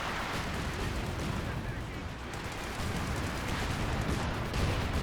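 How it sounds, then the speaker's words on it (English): Light artillery barrage in Company of Heroes 2, a dense continuous rumble of blasts and gunfire with no clear gaps, loud throughout, while a commentator talks over it. "Light artillery barrage running on in as well"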